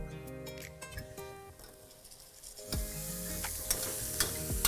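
Tomatoes sizzle and crackle in a hot pan while being stirred for a Lahori chicken curry with green chana, with steady frying hiss and scraping stirs throughout, louder in the second half.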